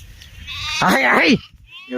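A sheep in a flock on a rainy day lets out one loud, close, wavering bleat, and a second bleat begins just as the sound cuts off.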